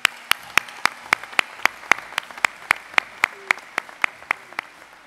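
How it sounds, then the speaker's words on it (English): At an NYPD graduation ceremony, applause for the Emerald Society Pipes and Drums comes as sharp, evenly spaced claps in a steady, quick rhythm that fades slightly toward the end. "a round of applause for our Emerald Society Pipes and Drums"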